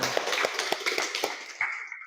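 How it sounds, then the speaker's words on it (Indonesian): Hands clap in a classroom, a quick, uneven patter of claps from a small group at moderate distance, continuing for about two seconds and thinning toward the end. "Wah, tepuk tangan."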